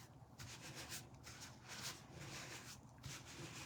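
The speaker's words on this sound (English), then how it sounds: "I'm just smoothing it down with my hands." Crinkled paper is smoothed flat by hand, giving soft, faint rubbing and brushing strokes in an uneven rhythm of repeated passes, close but quiet, with no one speaking.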